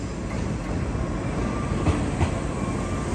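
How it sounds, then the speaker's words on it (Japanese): A Yakumo limited express train rumbles steadily close by, with a continuous low roar of wheels on rails and a couple of brief clanks, as it rolls slowly alongside platform 2 at a Japanese station. "そして2番乗り場に特急やくも号が入線。"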